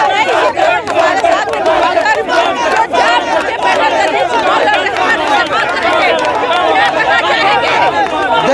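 A dense crowd of students outside Patna Women's College during PUSU student union elections, a loud continuous babble of overlapping chatter and shouts that fills the whole stretch without pause.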